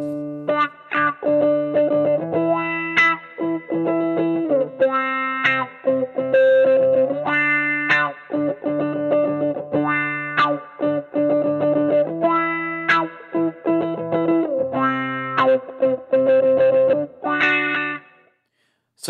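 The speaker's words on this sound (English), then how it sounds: "I've recorded some guitar and I'm now going to show you what it sounds like with doing this using this mod wheel" Recorded electric guitar run through Amplitube 5 amp simulation, its tone swept by an expression pedal under mod-wheel control, playing clean, effected chord and note phrases with short gaps between them, close and moderately loud.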